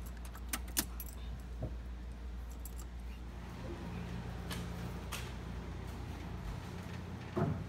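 Car keys jangling near an ignition as it is switched off, a few bright metallic rattles early on and another near the end, over quiet shop background.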